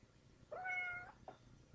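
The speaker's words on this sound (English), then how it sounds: "Kitty saying hi." A cat gives one clear, close meow lasting about half a second, followed by a short faint chirp, in an otherwise quiet indoor room.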